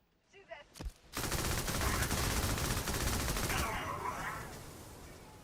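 Sustained machine gun fire in the video game Starfield, a dense continuous rattle that starts abruptly after a few soft sounds and runs for several seconds before tapering slightly.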